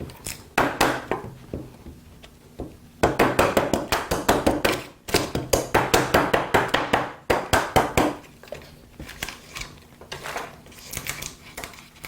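Chisel tapped repeatedly with a mallet to clear wood while building a trestle table, close and fairly loud, coming in quick bursts of sharp knocks separated by short pauses.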